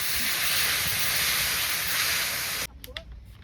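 Loud, steady hiss as water hits a hot pan of fish curry, cooking outdoors under an open sky, roaring for a couple of seconds before cutting off abruptly into quieter crackles and small clinks.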